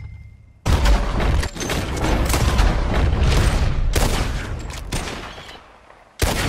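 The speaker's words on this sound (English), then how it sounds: "As soon as you see them, start shooting." Heavy gunshots in a Red Dead Redemption 2 shooting challenge, loud overlapping blasts forming a sustained volley for several seconds, then a short pause and one more sharp shot.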